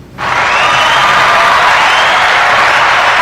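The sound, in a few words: audience applause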